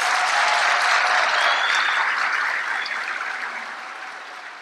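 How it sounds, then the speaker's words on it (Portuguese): A large congress audience applauds with loud, dense, continuous clapping, close and full at first, then slowly easing off toward the end. "Vamos aplaudir de novo esses meninos?"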